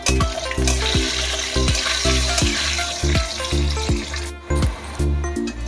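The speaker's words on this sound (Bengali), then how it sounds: "নুন দিয়ে দেব, দিয়ে আলুগুলো ভালো করে ভেজে নেব।" Sliced potatoes frying in oil with salt in a pan, a steady loud sizzle with repeated close scraping and tapping of a spatula stirring at a fairly regular rhythm, no voices.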